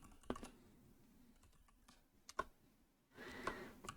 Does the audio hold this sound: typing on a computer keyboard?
yes